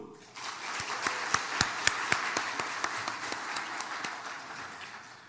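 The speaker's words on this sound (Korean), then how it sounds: "박수!" A church congregation applauds for a few seconds. A few sharp, close hand claps stand out over a swelling, then fading bed of crowd clapping.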